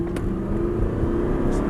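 Car engine note rising steadily as the learner driver accelerates away during a driving lesson, a continuous close interior hum without speech.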